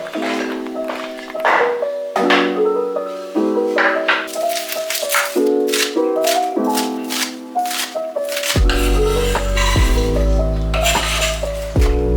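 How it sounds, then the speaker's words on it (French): A knife chops onions, tomatoes, coriander, parsley, celery and meat on a board in a home kitchen, giving quick irregular taps and thuds under steady background music. "je vais commencer à couper mes oignons, mes tomates, coriandre, persil, céleri, ma viande"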